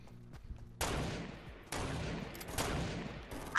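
Heavy sniper rifle shots in a battle royale shooter game, with loud blasts whose tails ring out, spaced apart and repeating, after a quieter opening.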